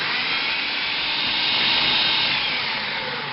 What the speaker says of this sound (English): We're going to go ahead and blend all this up.